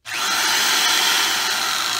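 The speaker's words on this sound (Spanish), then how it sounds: "aquí ya he puesto el tornillo en el taladro y con la lima la idea es irlo girando" Power drill spinning a screw held in its chuck while a metal file works against it, a steady loud high-pitched whirring grind that starts abruptly and holds continuously with no talking.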